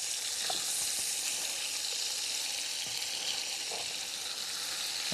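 Pork chili verde simmering and sizzling in a Dutch oven over charcoal at a fire pit, a steady broadband hiss with a few soft scrapes of stirring, close and continuous.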